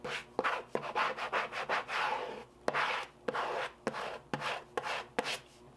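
A squeegee rubs firmly across a vinyl sticker in a series of close, scraping strokes, with sharp clicks marking each new pass and no talking.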